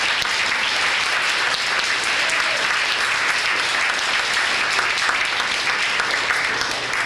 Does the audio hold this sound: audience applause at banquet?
yes